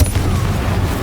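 Confringo blast spell from the Hogwarts Legacy video game, a loud, close, rumbling fiery burst that fills the whole second with deep booming energy and crackling hiss, with no voices.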